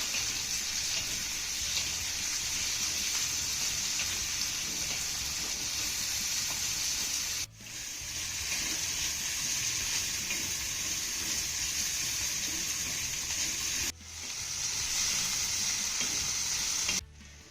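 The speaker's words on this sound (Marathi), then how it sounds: "आता हा कांदा ना आपल्याला हलक्या सोनेरी रंगावरती चांगला परतून घ्यायचा आहे" Lengthwise-sliced onion sautés with cumin in a pan toward light golden, giving a steady, fairly loud sizzle that runs without pause, broken only by two brief dips in level.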